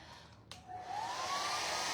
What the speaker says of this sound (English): I'm just gonna hit it with my hair dryer